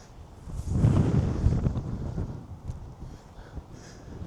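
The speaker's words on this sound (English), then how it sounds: "Wind's keeping up though. Really is kicking up." Wind gusting across open farm fields, a steady low rush and buffeting on the microphone that swells early and then eases to a moderate, continuous roar, with no talking.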